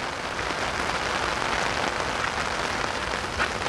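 Heavy rain pours steadily in Korea near a flooded river and bridge, a loud, continuous hiss of drops pattering on surfaces with no voices.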